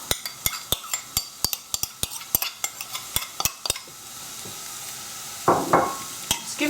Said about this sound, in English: Just as the butter's melted, add the onion and also the mushrooms.